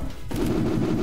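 Rapid video-game gunfire in a Turkish-played shooter match, a dense sustained burst of automatic shots starting abruptly after a brief quieter moment and continuing loud to the end.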